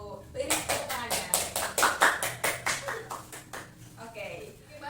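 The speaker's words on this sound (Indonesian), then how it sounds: "Beri tepuk tangannya." A classroom applauds after a group presentation, roughly a dozen quick, fairly close claps in a steady rhythm lasting a few seconds, with a little talk near the end.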